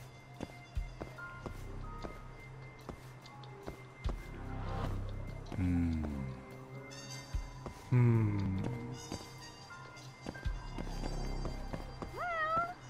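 Cat meowing in the video game Judgment: several distinct meows come through over quiet game ambience, with occasional footsteps and clicks.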